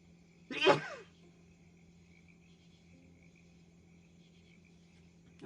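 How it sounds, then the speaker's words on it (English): A single sharp sneeze from a nearby adult bursts out once, loud and brief, followed by quiet room tone with a faint steady hum. "Gonna sneeze, excuse me."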